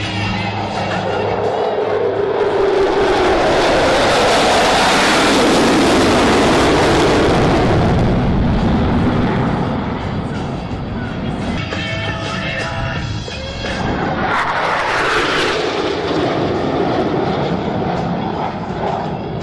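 A formation of eight Blue Angels jets thunders over the Lincoln airshow, a loud, swelling roar that builds, passes, and fades, then surges again as another pass sweeps overhead.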